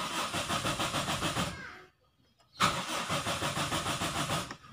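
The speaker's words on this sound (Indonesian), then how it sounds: "mesin tidak dapat dihidupkan walaupun sistem starter normal." An EFI car's starter cranks the engine in a rapid, even chug for over a second, pauses, then cranks again without the engine catching, a faulty ECU leaving it dead while the starter works normally; close and fairly quiet, no talk.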